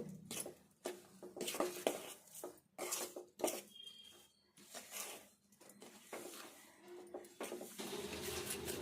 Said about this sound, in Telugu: ఇదంతా కలిసేటట్టు కలుపుకొని ఒకసారి అంతా చేయితోటి మంచిగా కలుపుకుందాము